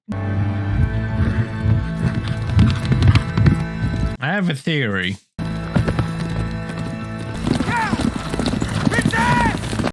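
A horse gallops at speed in the fantasy series House of the Dragon, steady hoofbeats drumming under overlapping speech, with a brief neigh and a sharp cut before the hooves resume alongside more voices.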